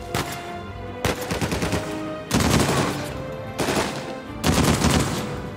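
Repeated bursts of automatic gunfire in Uncharted 4, five loud rapid volleys of a few seconds or less separated by brief pauses, close and dominating the scene.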